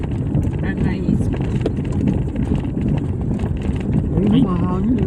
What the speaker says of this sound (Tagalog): Mahangin yun.